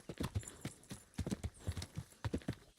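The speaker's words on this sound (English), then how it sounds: "A little wee canter." Horse hooves clip-clopping at a canter in a medieval Bohemia video game, a quick rhythmic run of close, crisp hoofbeats in clusters over about three seconds, with no talk.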